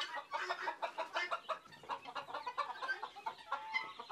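Polish cap chickens on a large mixed farm in Kerala give a run of quick, overlapping clucks and squawks at close range, fairly soft and uneven, with no speech.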